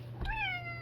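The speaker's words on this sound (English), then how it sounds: "and that's my cat." A single short, clear cat meow, fairly quiet, over a steady low hum.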